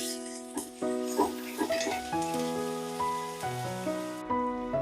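Onion with ginger-garlic paste sizzling in a pan for pav bhaji: a steady, bright frying hiss runs throughout beneath prominent background music.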